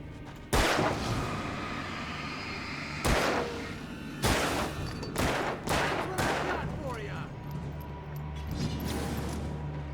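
Sharp gunshots crack out in the Alan Wake video game, a first single blast and then a cluster of rapid shots a few seconds later, loud and close, with ringing decays and some in-game voices between them.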